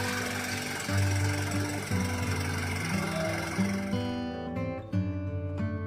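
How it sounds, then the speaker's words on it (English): A backhoe loader's diesel engine knocks and clatters in a rough, pulsing rhythm, close and fairly loud, with the beat shifting as the engine load changes. "backhoe loader"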